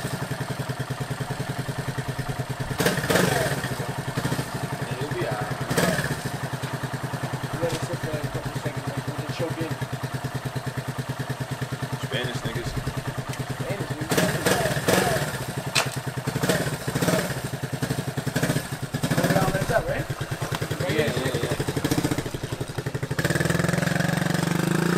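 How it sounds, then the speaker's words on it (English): A motorcycle engine idles and runs with the choke in, a steady mid-pitched rumble with occasional clattery revs, while people talk nearby over it throughout. "He's gotta run with the choke in."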